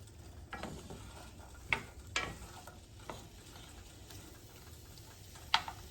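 Vegetables for Louisiana red beans and rice sauté quietly in a pot, a soft sizzle broken by several sharp stirring clacks and taps of a spoon against the pot, with no talk.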